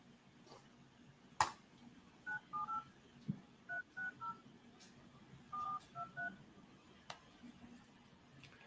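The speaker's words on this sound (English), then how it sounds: "let me dial one more" Phone keypad dialing tones from a call center lead session, a series of short beeps in irregular clusters, fairly faint against a quiet background with occasional clicks.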